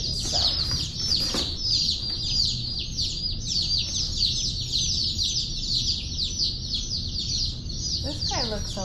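A box of newly delivered baby chicks chirping, a dense, constant chorus of high peeping close by, with some low background noise throughout.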